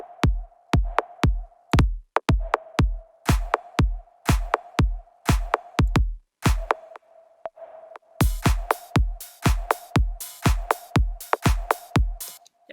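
Deep house drum pattern programmed in FL Studio: steady punchy kicks with a sustained low hum beneath, crisp hi-hats and claps layered on top, a brief drop near the middle, then the full groove returning loud and dense.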